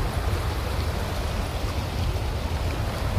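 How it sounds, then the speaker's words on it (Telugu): Heavy water rushing through the open gates of Manair Dam in Karimnagar, a steady, dense roar that holds at the same level throughout with no talk over it. "వాటర్ ఫ్లో ఇక్కడ కనిపిస్తుంది బాగా"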